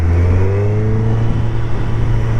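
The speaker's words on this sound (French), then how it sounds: "je trouve quand même la moto relativement silencieuse" Engine of a 2021 Suzuki Hayabusa motorcycle with its stock exhaust, a steady loud low drone with a slight rising whine partway through, continuous and alone for a couple of seconds.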